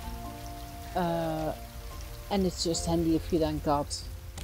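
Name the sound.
rain falling in the video game Raft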